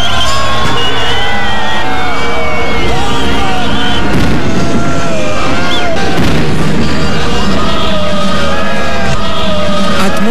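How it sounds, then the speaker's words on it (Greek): Fireworks bursting over a huge New Year 2006 crowd at the Brandenburg Gate in Berlin, with booms and crackles mixed into steady crowd noise and cheering, the bangs dense and irregular, a heavier cluster of blasts near the middle. "ένα εκατομμύριο άνθρωποι υποδέχονται το 2006 με χιλιάδες βεγγαλικά στο Βερολίνο"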